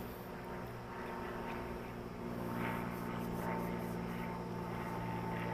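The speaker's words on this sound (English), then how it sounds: "there are a lot of planes going through my yard" Airplanes flying over a yard give a constant droning rumble with engine tones throughout, fairly loud and unbroken, and faint sounds rise and fall in the background.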